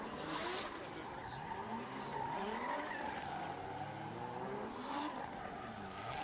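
At a Formula D drift competition, cars skid and squeal their tires with long wavering screeches over revving engines. The sound comes from some distance, with commentators talking over it.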